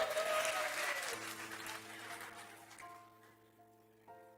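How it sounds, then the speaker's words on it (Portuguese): Audience applause in a church during a service, a burst of crowd clapping that starts strong and tapers off over a few seconds while a sustained keyboard chord hums beneath. "A salva de palmas para eles aqui,"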